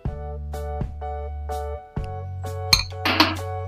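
A spoon adds homemade masala spice to a pot of masala chai, sounding as a run of bright, ringing metallic clinks against the pot, followed by a short rustling scrape.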